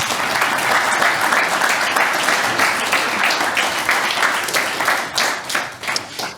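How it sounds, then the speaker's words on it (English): A lecture hall audience gives a steady, full round of applause for the guest speaker at an evening lecture, dense clapping that holds loud throughout and begins to thin near the end. "I think we should give our speaker another round of applause"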